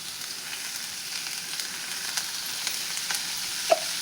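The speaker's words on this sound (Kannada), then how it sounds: "ಸ್ವಲ್ಪ ಎಣ್ಣೆ ಹಾಕೀನಿ, ಹುರಿಬೇಕು ನೋಡ್ರಿ." Cabbage frying in a little oil for a palya, a faint steady crackling sizzle with small scattered pops and one brief sharper click near the end, no talking.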